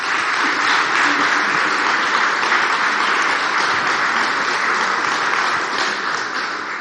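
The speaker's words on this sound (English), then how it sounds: "So give a big round of applause to our staff" A conference audience applauds the event staff, a steady, dense roomful of clapping that holds evenly throughout without a break.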